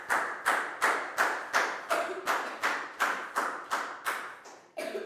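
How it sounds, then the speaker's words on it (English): Children in a Year 4 English classroom clap together in a steady rhythm, about a dozen sharp, evenly spaced group claps that are crisp and fairly quiet, with a brief pause before the final one. "a big round of applause"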